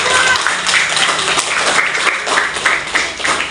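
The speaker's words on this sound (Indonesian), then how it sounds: "beri tepuk tangan untuk kelompok" Classroom students clap for a group that has just presented during a lesson, a dense, steady patter of many hands filling the room throughout, with no clear voices.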